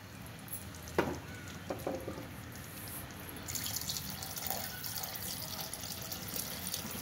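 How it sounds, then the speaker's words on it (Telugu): Two cups of water run and trickle into a pan of cauliflower masala curry, with a brief splash near the start and faint dripping and stirring sounds in a quiet kitchen. "మనం ఇప్పుడు ఒక 2 కప్స్ ఆఫ్ వాటర్ యాడ్ చేసుకున్నామండి"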